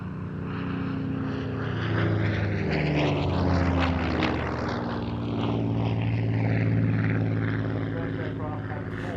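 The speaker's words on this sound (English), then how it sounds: "Now this Spitfire is a Mark 9, to be precise, an LF-9E." A Supermarine Spitfire Mk IX, LF-9E variant, at an airshow, its piston engine and propeller building to a loud, rich drone as it passes, the pitch sweeping down as it goes by, steady and powerful throughout.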